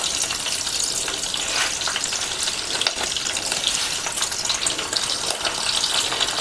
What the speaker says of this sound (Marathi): आता आपण तेल तापलेलं आहे, राई घालूया.